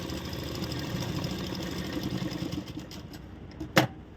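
An electric sewing machine runs a steady, continuous stitching drone along a blouse seam, close and fairly loud, easing off near the end with a brief sharp knock.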